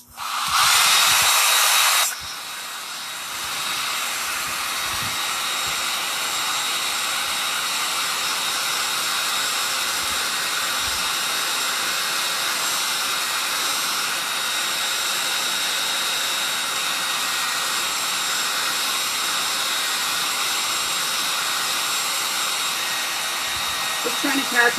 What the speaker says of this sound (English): I'm going to use some heat on it